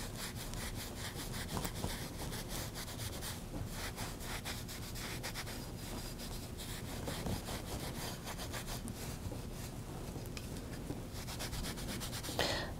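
A soft cloth buffing wax over a La Chaux lime plaster finish, producing a steady, close rhythmic rubbing with repeated back-and-forth strokes and no voices.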